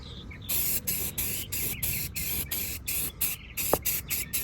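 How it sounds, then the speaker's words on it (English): Spray can applying primer and green implement paint to a metal die rack for a 16-ton press, a series of short hissing bursts in a rhythmic start-stop pattern, close and moderately loud, with no talking. "I'm going to go ahead and prime and paint the sides and the back and front of this"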